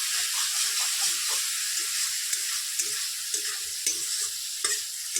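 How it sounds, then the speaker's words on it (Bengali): Spice paste frying in hot oil for a rohu fish curry, a soft steady sizzle with faint occasional stirring clicks of a spoon, close and fairly quiet, no talk. "আমার মশলাটা ভাজ হয়ে গেছে"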